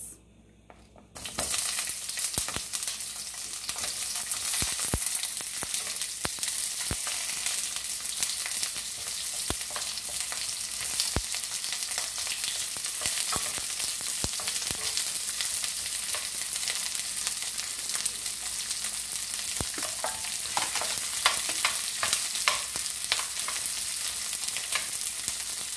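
Onions fry in a pan for beef bone soup, giving a loud, even sizzle that holds for almost the whole stretch after a brief quiet start. Small clinks and stirring taps come through now and then.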